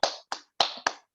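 Four sharp, separate hand claps in quick succession, close and crisp, each fading fast, with brief silences between and no voices.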